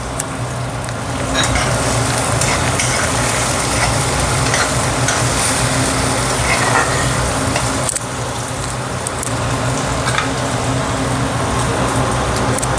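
Chopped onion sizzles loudly in a pan with a pinch of salt, a steady dense hiss with stirring scrapes running evenly throughout, no voices.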